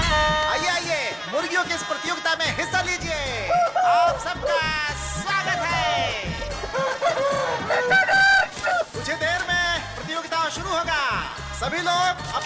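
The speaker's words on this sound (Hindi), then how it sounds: "मुर्गियों की इस प्रतियोगिता में हिस्सा लीजिए।" Roosters at a chicken competition crow and cluck in repeated bursts, mixed into a busy, loud scene with people talking over them throughout.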